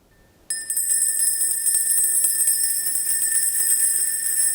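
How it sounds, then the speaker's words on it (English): A wake-up bell rings out abruptly after a brief silence, its bright sustained metallic tone holding steady and loud with a shimmering buzz until the end, no voices heard. "The wake-up bell, everyone."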